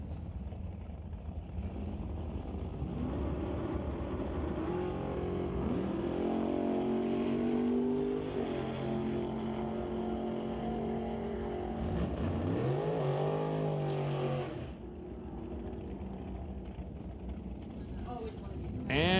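At a drag strip, a 1991 Mustang and a 1969 Camaro race, a loud engine roar rising and falling with revving sweeps and a pass-by, under an announcer's ongoing commentary.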